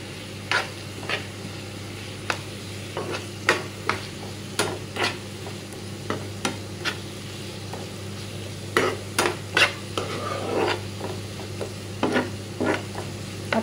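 Spice masala with a little salt stir-fried in a pan: a constant sizzle broken by frequent clicking, tapping spatula strokes in irregular bursts, close and unaccompanied by voices.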